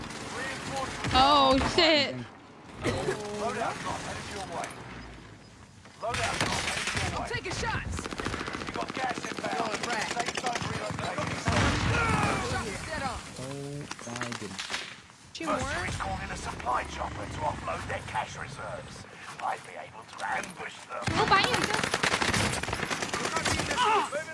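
Rapid bursts of gunfire in an online multiplayer shooter, sharp automatic fire crackling in clusters through most of the stretch, mixed with game effects and players talking over it.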